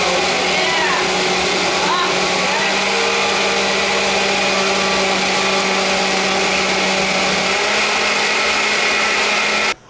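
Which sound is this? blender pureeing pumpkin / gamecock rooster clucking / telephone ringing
blender pureeing pumpkin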